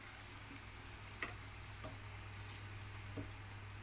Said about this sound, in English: When we do the deep fry